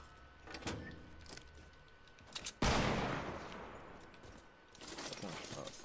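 Gunfire in Fortnite during a battle royale match: one loud burst of shots in the middle, with sparse fainter pops before and after, under game sounds.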